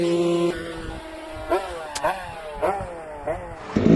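A Beta X Trainer 300 two-stroke dirt bike on a winter enduro ride revs repeatedly in short rising bursts, about four sharp throttle blips close by, with tires working over snowy ground.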